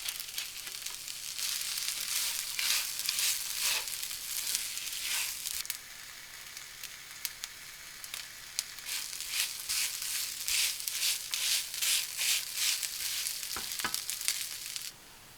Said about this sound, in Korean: 잘게 썬 유부를 넣고 살짝 더 볶는다.